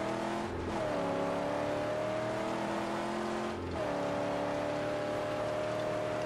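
Vehicle engine in the Mad Max video game droning loud and sustained with a steady pitch, dipping briefly twice as if shifting gears before resuming its strong roar; no talking.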